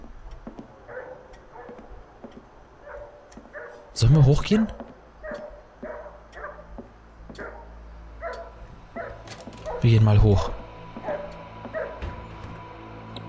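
Repeated dog barks from the horror video game The Nightfall keep a steady rhythm in the background while someone talks over them in two louder bursts.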